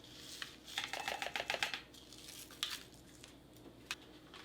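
Sugar crystals and drink mix being stirred in a cup from a Russian 2018 Emercom ration, heard as quick, light clinks and scrapes in a busy burst, then a few sparse taps, close and faint.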